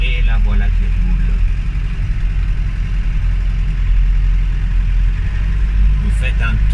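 A classic Peugeot 404 car drives slowly across a garden, its low engine rumble steady and close throughout, with faint clatter and a brief voice near the end.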